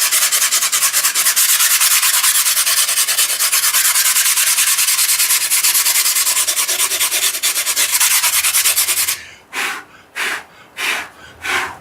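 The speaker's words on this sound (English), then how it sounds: "I'm going to sand this down. Get rid of a lot of imperfections out of this." Continuous harsh rubbing of sandpaper over a textured surface, loud and close for several seconds, then breaking into short separate back-and-forth strokes.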